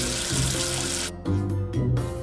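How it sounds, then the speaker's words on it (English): Running water from a tap rinses soap off a letter in a children's cartoon, a steady rushing flow that briefly breaks and resumes with a couple of short interruptions. "Wash away the soap with water."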